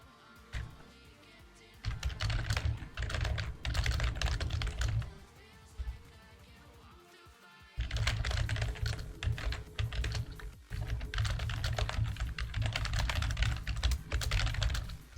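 Typing on a computer keyboard, close and crisp, in two long bursts of rapid clicking separated by a short pause, with a steady low hum underneath and no talk.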